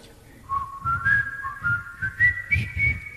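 An audience at a rockabilly concert whistles a melody together: clear, sustained whistled notes rising and falling in a tune, with soft low thumps beneath.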